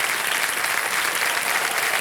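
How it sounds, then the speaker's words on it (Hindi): Studio audience on a quiz show breaking into dense, even applause, many hands clapping together loudly and steadily for the full moment. "तालियां बज जाए इनके लिए"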